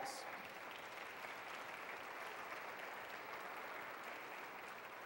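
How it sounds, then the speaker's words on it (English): An audience at a university address gives a continuous round of applause, dense steady clapping that is faint and distant throughout. "give it a round of applause"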